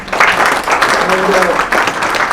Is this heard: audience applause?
yes